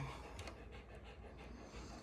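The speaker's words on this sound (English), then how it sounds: "You can hear my Charlie puffing in the background." A dog pants quietly in the background, a soft, steady run of quick breaths that stays faint and even throughout, with no talk over it.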